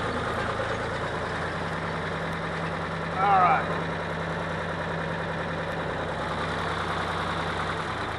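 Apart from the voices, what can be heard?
tractor engine idling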